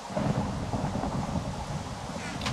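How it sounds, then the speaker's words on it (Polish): Steady rain with a low rolling rumble of thunder from a thunderstorm in Minecraft, continuous and fairly loud throughout with no talking. "Burza jest."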